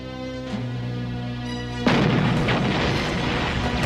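Artillery fire in a First World War documentary about the Battle of Gallipoli, a deep sustained rumble followed by a sudden loud boom and crackling aftermath.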